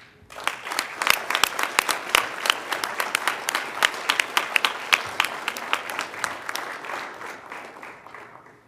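An awards ceremony audience bursts into warm applause for a recipient walking to the stage, dense, steady clapping from a sizeable crowd that swells quickly and then slowly thins out.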